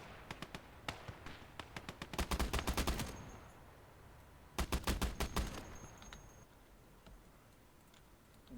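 A DShK heavy machine gun fires in a World War II tank video game, sounding as several rapid bursts of sharp repeated shots, separated by quieter gaps, with no talk.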